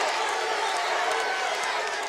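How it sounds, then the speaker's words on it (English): A Mid South Wrestling arena crowd roars as Hacksaw Duggan returns with a 2x4 to rescue Butch Reed, a steady dense wash of cheering and shouting with scattered clapping. "Listen to this crowd."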